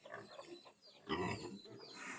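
A native sow with a litter of ten newborn piglets gives faint grunts and squeals, short irregular sounds at a low level.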